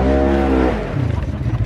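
A Polaris RZR off-road side-by-side engine hums steadily at close range, its tone shifting partway through into a rougher, pulsing idle.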